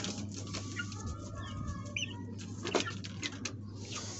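Chickens cluck softly and intermittently over a low background hum, with a few scattered scratchy sounds nearby as rice is brought to them.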